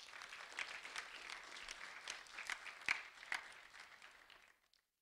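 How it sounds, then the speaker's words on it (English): An audience at an awards ceremony applauds in a moderate, scattered burst that swells slightly in the middle and then fades out, heard from a distance without talk. "a round of applause for Wroyal Henderson, please."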